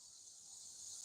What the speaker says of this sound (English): That's it, cicada.